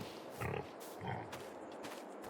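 Pigs in a Farming Simulator 22 pasture give a few soft, low grunts in two short bursts, heard over a steady game ambience and nearby background noise.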